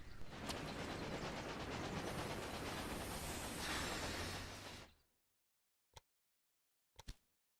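A train runs in the Railway Empire video game, a loud steady rumble with hiss and faint clickety-clack for about five seconds that then cuts off, followed by two short knocks in silence.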